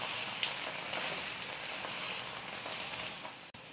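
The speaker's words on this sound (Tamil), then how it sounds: "நான் தோசை ஒரு பக்கம் நல்லா வெந்ததுக்கப்புறமா இன்னொரு பக்கம் திருப்பி போட்டுக்கிறேன்." Egg dosa sizzling in oil on a hot pan, a steady close crackle and hiss with a few sharper pops, continuous throughout with no voices.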